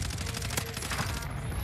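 Gunfire in a video game: quick bursts of shots crackle over a constant background roar, one sharp louder crack standing out, followed by scattered fainter shots.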